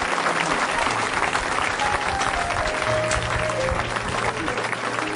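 A church congregation at a deliverance service breaks into loud, sustained applause, a dense wall of clapping that stays steady throughout, with voices and cheering mixed into the crowd noise.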